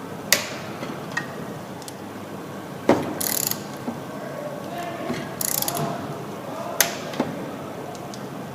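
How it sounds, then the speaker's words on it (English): Torque wrench fitted with a 10mm socket, adapter and extension tightening carburetor stud nuts on a small engine, giving sparse ratcheting clicks and a few sharp snaps, close and clear with no talking. "Tighten the nuts until the torque wrench clicks."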